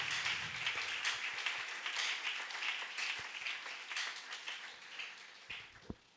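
A church congregation applauding, a sustained wash of many hands clapping at moderate distance, steady for several seconds before tapering off.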